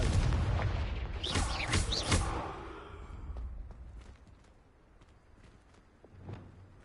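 A Confringo blasting spell goes off in Hogwarts Legacy, a booming burst with crackling debris that rolls off and fades over several seconds, followed by a few faint scattered hits.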